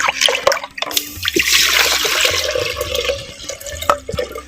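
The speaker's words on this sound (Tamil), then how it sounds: "அரிசி அலைஞ்ச தண்ணி ஒரு லிட்டரு" Rice-washed water, about a liter, pours into a clay pot for banana flower rasam, a steady splashing gush with gurgles and a few drips, close and loud with no talk.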